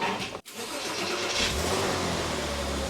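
A Porsche 986 low on gas cranks, catches and settles into a steady, loud idle after a brief silent gap, its engine note continuous and close.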